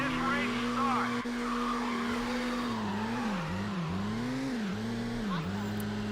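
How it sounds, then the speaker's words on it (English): A car burns out and squeals its tires in the street racing game Midnight Club II on PS2, the engine droning with a wavering, sliding squeal over a loud continuous roar. "You want to smoke your tires, kid? Hold your handbrake and hit the gas."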